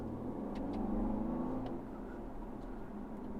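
A 2020 BMW M135i xDrive engine hums steadily while driving, with a low, muffled drone and road noise, swelling slightly then settling.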